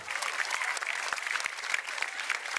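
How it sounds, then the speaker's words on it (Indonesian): An audience at a stand-up comedy open mic night claps steadily in a dense, continuous burst of applause, fairly close and even in loudness throughout. "Kita beri tepuk tangan yang meriah untuk Inyoman Adiferi."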